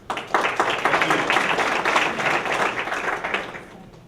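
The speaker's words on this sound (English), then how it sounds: "Give him a round of applause." An audience applauds guest speaker Rob Sprouse at a business gathering, a dense, steady wash of many hands clapping that swells quickly and holds for about four seconds before tapering off, with no talking over it.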